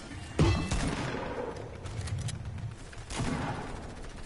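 A new gun firing in Fortnite, a loud close burst near the start, rattling continued fire, then another strong burst toward the end, all over dense game background noise.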